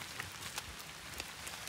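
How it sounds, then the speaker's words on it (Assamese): Light rain pattering softly and evenly on surfaces at a night campsite, a faint continuous hiss of scattered drops with no voices. "অলপ অলপ ওপৰৰ পৰা বৰষুণো দি আছে"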